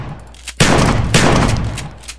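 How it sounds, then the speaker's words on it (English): Winchester Model 1912 pump-action shotgun fired in Minecraft, two loud booming blasts in quick succession with a short decaying tail, alone with no talk. "so here's the Winchester Model 1912. Pump action. Just like with the bolt action rifles, you have to click to pump it each time."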